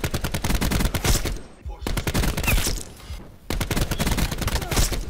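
Rapid automatic gunfire from a gun in Call of Duty Black Ops 4, loud close bursts of dense shots with two brief pauses, a voice faintly underneath.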